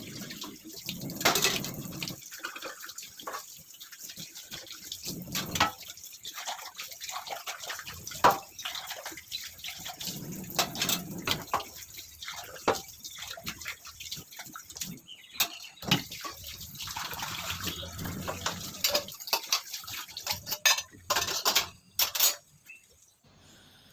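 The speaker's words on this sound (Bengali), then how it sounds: "আমার বাসন ঘষা হয়ে গেছে। এখন আমি ধুয়ে" Scrubbed dishes rinsed under a running kitchen tap, with water splashing unevenly in bursts and trickles as items are moved under the stream, plus soft drips, heard close up with no talk.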